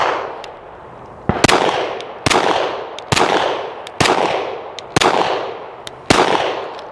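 A Canik TP9SF pistol fires at an outdoor range, seven sharp, loud shots in a steady, evenly spaced rhythm, each crack trailing off in a brief ringing echo.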